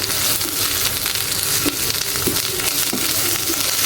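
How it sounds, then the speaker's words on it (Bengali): Loud, close, continuous sizzling of spices frying in a small amount of oil, with a few soft stirring knocks. "সবগুলো মশলাই কিন্তু তেলের ভিতরে ভাজা ভাজা হয়ে গেছে"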